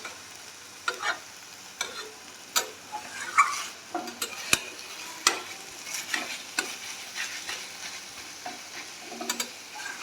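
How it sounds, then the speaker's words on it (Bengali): Leaves, ash gourd leaves in a Bengali banana-stem vegetable dish, pressed and mixed with a spatula in a pan; scraping, tapping strokes at an irregular rhythm over a low frying sizzle, close and moderately loud. "খুন্তি দিয়ে এরকমভাবে চেপে চেপে পাতাটাকে ভালো করে মিশিয়ে দিতে হবে।"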